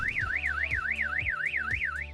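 A vehicle security system's car alarm sounds loud and close, a steady warbling siren that sweeps up and down in a fast, even cycle, with a repeating low pulse beneath it and no voices.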